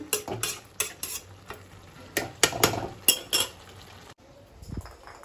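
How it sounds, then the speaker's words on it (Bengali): Cabbage cooking with prawns and green chillies in a home kitchen pan, heard as scattered clinks and scrapes of a spatula against metal with faint sizzling underneath, the stirring coming in irregular close bursts. "বাঁধাকপি চিংড়ি মাছ দিয়ে হচ্ছে, কাঁচা লঙ্কা দিয়ে করছি"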